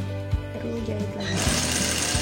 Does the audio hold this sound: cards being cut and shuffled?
no